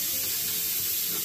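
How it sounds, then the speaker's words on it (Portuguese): Loud, continuous high-pitched hiss of steam escaping under pressure from a pressure cooker's safety valve, steady and harsh with no pauses. "o pito de segurança da panela de pressão."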